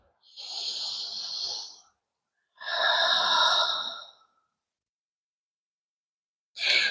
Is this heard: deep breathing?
yes